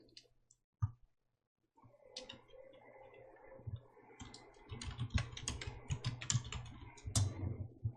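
Fingers tap on a computer keyboard while entering slide text in a PowerPoint exercise, first a couple of isolated clicks, then a quick, close run of continuous key presses, quiet and without speech.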